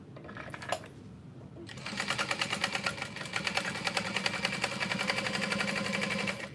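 Sewing machine stitching a messenger bag at a stitch length of 4.5, starting after a brief pause with a steady, rapid mechanical whirring and rhythmic needle clatter that runs loud and continuous to the end.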